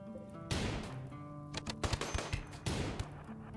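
Video game gunfire rings out in bursts: a loud blast, scattered sharp shots, then another heavy blast, set against faint background music and fairly quiet overall, with no voices.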